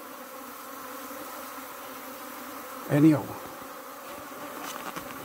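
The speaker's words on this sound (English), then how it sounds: "Quite a lot of bees inside." Bees buzz inside a car used as a community hive, a faint continuous hum with a louder, brighter burst near the middle as one passes close, and a brief spoken word.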